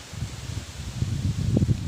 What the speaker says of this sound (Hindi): इतनी तेज़ हवा चल रही है, बहुत तेज़ हवा चल रही है